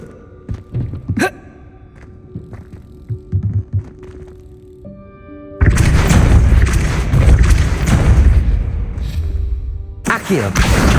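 Depulso force spell in Hogwarts Legacy, a heavy booming impact that swells into a loud, sustained rumbling blast lasting several seconds, preceded by scattered thuds and game sounds.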